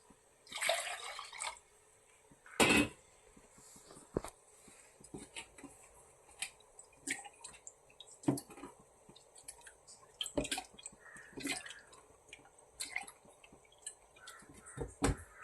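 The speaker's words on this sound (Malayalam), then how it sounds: "നമ്മൾ കുറച്ചുകൂടെ വെള്ളം ഒഴിക്കുകയാണ്" Quiet splashing and trickling water poured into a pan of banana flower rasam, with scattered drips and small clinks, a louder gush near the start, then intermittent soft pours and taps.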